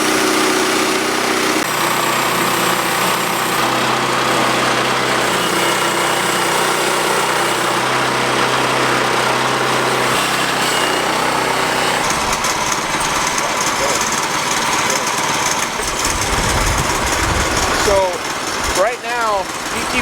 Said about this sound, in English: milling them on our new portable bandsaw mill